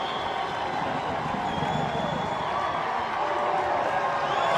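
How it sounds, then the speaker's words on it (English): A large outdoor crowd at a rainy, cold lacrosse championship game rises to its feet, its broad roar and cheering sustained and swelling slightly toward the end, heard from within the stands. "a hearty crowd rising to its feet to salute a worthy champion"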